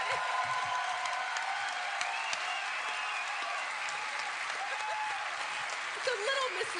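A podcast's live audience applauds with scattered whoops and cheers, moderately distant clapping while voices talk over it near the end.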